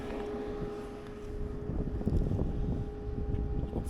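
Strong gusting wind buffets the microphone outdoors at a charging stop before a ride over mountains, a loud, broadband rumble that swells and surges unevenly throughout, with no speech.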